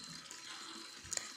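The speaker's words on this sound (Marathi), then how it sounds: "असं मस्त नळाखाली खळबळून धुवून घेतलेलं आहे स्वच्छ एकदम" Raw potatoes rinsed under a running kitchen tap, a quiet steady flow of water with small splashes and a brief louder clatter near the end.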